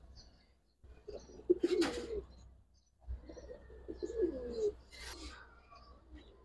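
Domestic pigeons (Giribaz and coloured breeds) at a seller in Old Dhaka coo in two soft, close phrases, each a throaty rolling call with a brief brighter flutter or rustle, over a quiet background.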